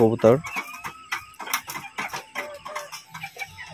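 Young native chickens, two roosters and five hens, cluck in short, repeated bursts nearby, with some louder calls at the start and someone talking over them.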